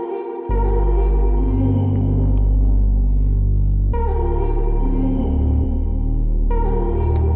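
Loud, full music with a deep, sustained bass line under a held melodic part, shifting chords twice, playing steadily without any speech.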